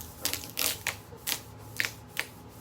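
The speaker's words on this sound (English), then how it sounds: "what you're hearing is little air bubbles under the surface that I'm sort of working to the edge" Crackly, crinkling bursts as air bubbles are pushed out from under metal foil smoothed by hand, several irregular close crisp pops and rustles, quiet and with no talking.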